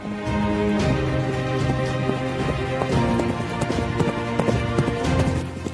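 Horse hooves clip-clopping at a gallop as a sound effect behind a narrated historical tale of Sikh horsemen, a steady loud rhythmic pounding of many beats running throughout.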